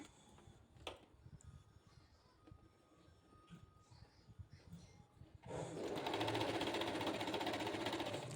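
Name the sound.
sewing machine stitching cotton frock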